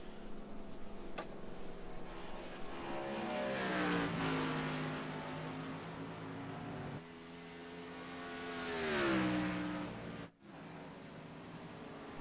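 An oval race car in the iRacing simulator, in fourth gear at Talladega or Rockingham, holds a loud engine whine near the rev limit. The pitch swells and dips through the corners, and a brief cut near the end drops the sound.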